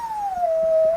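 A puppy gives one sustained, high, wavering howl that slowly drops in pitch, close and clear over a quiet indoor background.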